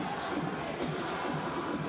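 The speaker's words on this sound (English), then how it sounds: "just hear the roar from the crowd" A large football stadium crowd at a Persija Jakarta home match, roaring loudly and continuously as a set piece is set up, a dense sustained wash of voices with faint chanting underneath.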